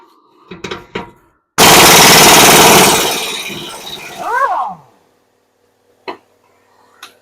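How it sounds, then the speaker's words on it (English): A power tool buzzes off the nuts on a car's muffler clamp during an exhaust install, one loud rattling burst of about three seconds, with clanks of metal handling and a short voice before and after. "Looks like I can just buzz off the nuts on that muffler clamp, and it should drop down."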